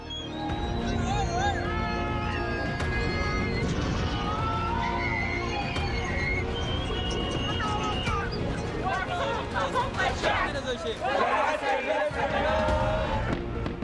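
Large crowd of street demonstrators in Khartoum, a dense continuous roar of many voices with shouts and chanting, loud and close, with a few sharp bangs and whistles rising toward the end.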